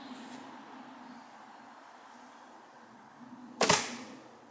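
An arrow loosed from a 46 to 47 pound ILF recurve bow with a maple-core carbonwood limb set and a 700-grain arrow makes one sharp, fairly loud snap near the end, after several seconds of quiet room noise.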